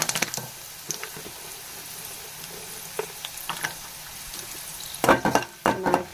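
Peanuts and cashews sizzle and crackle as they fry in a pan at home, a steady low hiss with sharper stirring scrapes and louder bursts near the end.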